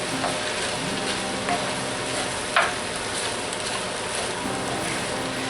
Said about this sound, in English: When this fries up just a little bit, we'll introduce the bacon back in.